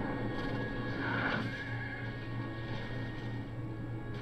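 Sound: horses neighing in Empire Total War video game

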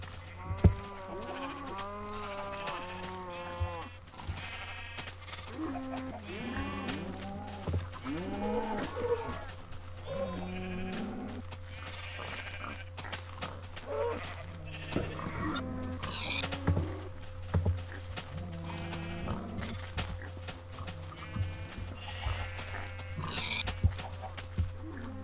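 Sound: sheep bleating in video game Minecraft

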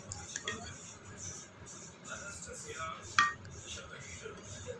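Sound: stirring Manchurian gravy in a pan

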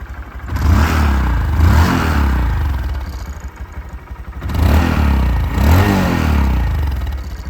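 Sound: Honda Monkey motorcycle engine revving as throttle is twisted

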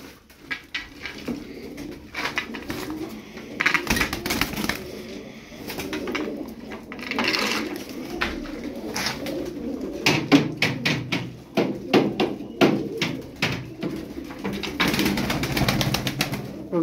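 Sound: tumbler pigeons cooing

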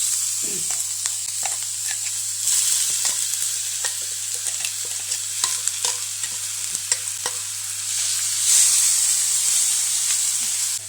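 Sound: mustard seeds, garlic, shallots and dried chillies sizzling in oil

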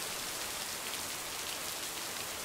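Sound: loud rain in the video game Lake

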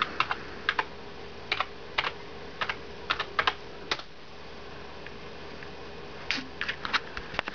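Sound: typing a password on a computer keyboard

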